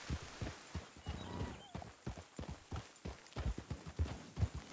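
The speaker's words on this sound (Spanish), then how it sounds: "Está en celo el caballo." Horse hooves clip-clopping in a steady, fairly close rhythm, with a low thudding quality and no voices.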